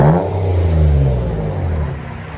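A 2013 Lincoln MKX with a 3.7L V6, dual exhaust and a muffler delete revs up loudly nearby and then eases off in a deep, rising-then-falling engine growl.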